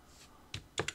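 Keys tapped on a computer keyboard for a Ctrl+8 shortcut, a couple of close, crisp clicks in quick succession within a quiet room.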